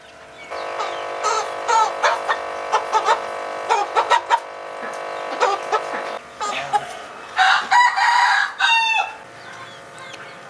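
A rooster crows loudly and close among organic meat chickens of about 4 kilograms, with bursts of clucking and short calls in between, no talking.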